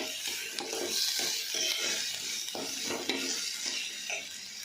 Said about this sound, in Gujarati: એ ડુંગળી એકદમ પાકી જાય ત્યાં સુધી આપણે એમને મીડિયમ ગેસ ઉપર પકાવવાની છે